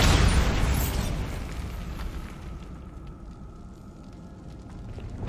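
A Bombarda explosion spell in Hogwarts Legacy bursts loudly at the start, then a rumbling roar decays gradually into a fading crackle, with no talk.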